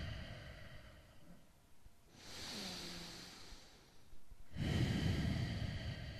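Deep breathing during a yoga stretch in a morning routine for knees and hips: a slow, airy inhale followed after a pause by a fuller, louder exhale, close and quiet, with no talk over it.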